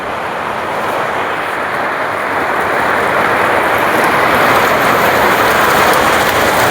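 Heavy rain pours down on a house in the first downpour of the year, a loud, dense, unbroken roar that swells slightly as it goes on.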